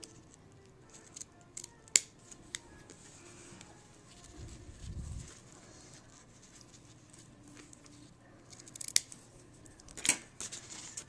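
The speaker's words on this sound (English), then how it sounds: "using my ribbon shears, I'm just going to cut this." Ribbon shears cut ribbon for a handmade Valentine's card, making a few sharp, faint snips spread over a quiet stretch with light handling noise between them and no talking.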